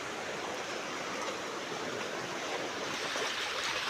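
River water in a Konkan countryside setting rushes in a steady, soft broadband wash, faint and unbroken, with no voices.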